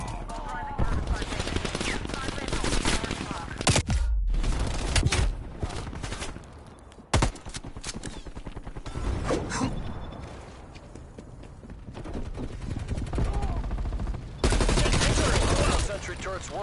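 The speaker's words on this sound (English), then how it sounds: "Multiple hostile sentry turrets working your AO." Hostile sentry turrets fire in a Call of Duty Cold War match, producing rapid automatic gunfire bursts that come and go with brief pauses over continuous battle noise.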